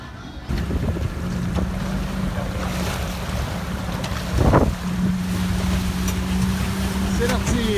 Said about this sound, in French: Ça va un petit peu plus vite que l'autre bateau qu'on avait.